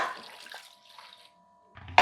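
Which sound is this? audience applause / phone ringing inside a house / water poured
water poured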